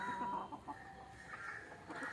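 Country chickens clucking and calling in a farmyard at evening feeding time, a few soft scattered clucks and short calls at moderate distance over quiet background.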